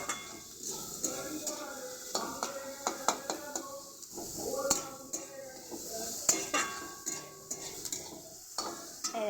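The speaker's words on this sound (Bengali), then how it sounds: "এবার বন্ধুরা ভালো করে পেঁয়াজটা ভেজে নিয়ে আর একটু তেল দেবো" Onions fry in oil in a pan for butter chicken, a soft sizzle beneath repeated scraping and clinking of a stirring utensil in irregular bursts.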